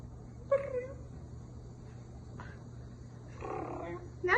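A pet cat makes a few short chirping trills at intervals, close and fairly soft, over a constant low electrical hum, with brief human vocal sounds between them.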